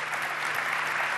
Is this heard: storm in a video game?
no